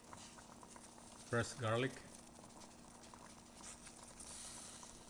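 Fish in tomatoes simmers in a pot with a soft, steady bubbling and patter that holds throughout, faint and close, while a voice speaks briefly partway through.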